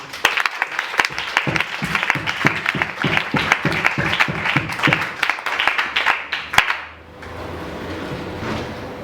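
A church congregation applauds at a Sunday service, a rhythmic run of sharp, fairly close claps in a steady beat that stops abruptly, leaving a low room hum.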